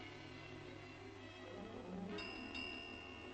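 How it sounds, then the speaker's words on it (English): Railway signal bell ringing in a 1941 mystery-comedy film, a couple of bright metallic strikes with ringing overtones rising over a steady hiss of old soundtrack noise, moderately faint. "Listen. The signal bell."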